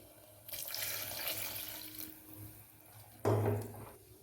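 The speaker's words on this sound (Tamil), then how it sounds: "ஒரு 2 டம்ளர் அளவுக்கு தண்ணி ஆட் பண்ணிக்கலாம்." Water pours steadily into a cooking pot holding ground paste for a tomato kurma, a broad splashing rush lasting a couple of seconds, then a brief louder gush near the end, close up with no talking.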